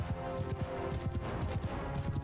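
Horses gallop through a Mount & Blade II: Bannerlord battle, a quick, rhythmic clatter of hooves that stays moderately loud and continuous with no talking.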